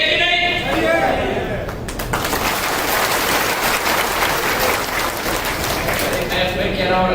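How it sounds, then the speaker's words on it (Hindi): Audience applause at a public event in Karera, loud and sustained for several seconds after a voice speaks briefly at the start. "जरा करेरा की ताली सुनाओ इनको"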